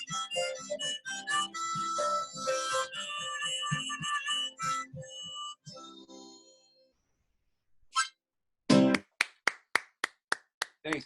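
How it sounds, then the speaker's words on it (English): A single person claps at the end of a live acoustic performance, with about eight separate, evenly spaced claps close by. Before them a sustained musical passage fades out into a short silence. "It's nice to hear at least one person applaud, you know?"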